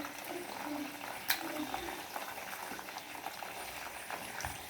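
Oil sizzles and bubbles steadily as peanuts and dried red chillies fry in a pan, with a few sharp pops and faint stirring scrapes, no one speaking.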